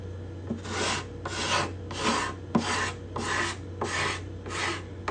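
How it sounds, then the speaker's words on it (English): Hand scraper rasping along the cedar top bindings and purflings of a Desmond guitar, seven steady strokes in an even rhythm, close and clear with a low hum behind. "for the fun of it, I'm going to try a different scraper."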